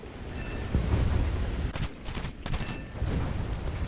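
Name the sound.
aircraft machine guns firing in War Thunder video game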